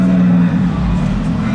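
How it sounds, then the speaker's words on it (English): A Nissan Skyline R34 pulls into a JDM car meet, its engine a steady, close rumble that eases slightly partway through, with faint crowd voices beneath. "And in comes an R34."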